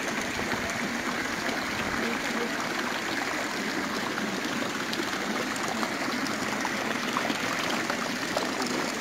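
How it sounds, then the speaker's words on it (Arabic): A flowing stream in an Andalusian landscape runs steadily throughout, a continuous close wash of water with no breaks and no voices. "اسمع صوت المية."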